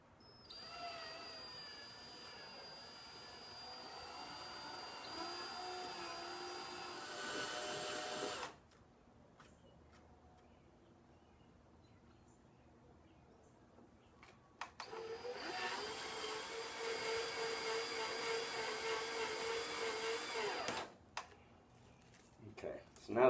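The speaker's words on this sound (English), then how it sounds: "I'm just going to run it on up slowly and make sure it don't take a big chunk of plastic" A drill with a half-inch bit whines steadily for several seconds boring through the plastic of a motorcycle tour pack, stops, then runs again after a quiet pause, its motor pitch wavering as the bit cuts.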